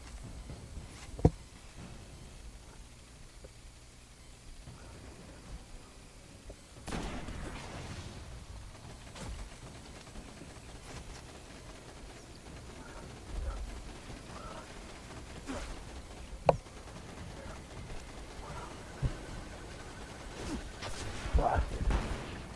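Gunfire from the video game Destiny played on a PS4 Pro: scattered sharp shot cracks and bursts over a steady rumbling game background, loudest near the start and the end.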